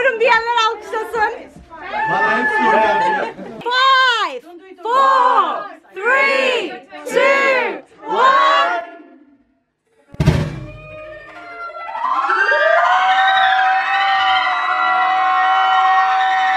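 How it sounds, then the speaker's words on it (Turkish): A crowd of party guests at a gender reveal party breaks into loud, sustained cheering and whooping after a stretch of shouted talk and a brief pause. "Bilmiyorum diyenler alkışlasın"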